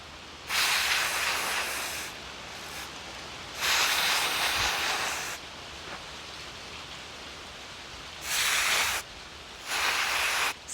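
Spray paint hisses from an aerosol can onto pine cones for Christmas decorations, in four separate bursts of roughly one to two seconds each, loud and close, with quiet pauses between them.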